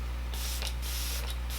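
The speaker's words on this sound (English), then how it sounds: "Lastly, I'm going to set everything with my Luminous Setting Spray from Morphe." Morphe Luminous Setting Spray misted from a bottle in a few short, close hissing bursts over steady low background hum, with no talking.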